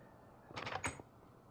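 A door in the Minecraft video game opens or closes with a brief burst of clattering clicks, a quick run of close, crisp wooden knocks over near silence.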